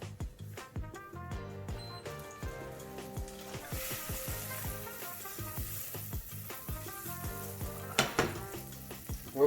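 A knob of butter sizzles and crackles in a saucepan with steady frying hiss, punctuated by sharp clinks of a utensil against the pan.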